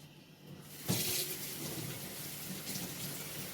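A kitchen tap opens suddenly and runs in a steady, close gush as blanched Egyptian cabbage is rinsed under the stream.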